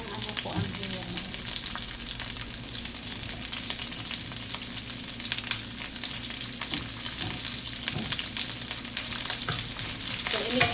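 Onions frying in a pan for galunggong adobo with chili, a dense continuous sizzle with crackling bursts and faint stirring scrapes, close and steady with no voices.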